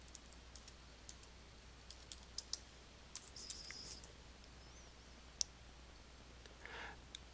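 Faint, irregular keyboard clicks as words are typed into the Internet Explorer 11 address bar on a Windows 8.1 computer, scattered single taps over a quiet background.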